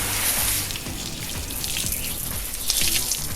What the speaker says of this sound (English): eventually you're going to want to give that a good rinse